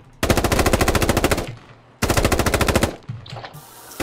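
A rifle magazine emptied in the military shooter game Squad, two long rapid automatic bursts of evenly spaced shots, loud and close, separated by a short pause, with no voices.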